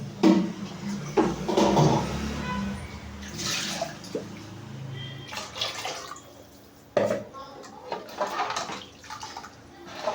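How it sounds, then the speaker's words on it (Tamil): Water is poured into a simmering tamarind fish curry, giving splashing, bubbling liquid sounds in several bursts with clinks of a pot, while a person talks intermittently over the cooking. "கொஞ்சம் தண்ணி ஊற்றிக்கலாம். கெட்டியாக இருக்குது."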